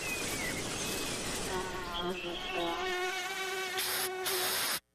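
Mosquitoes buzz in a warm summer setting: a close, steady, whining drone that lasts nearly five seconds and then cuts off abruptly.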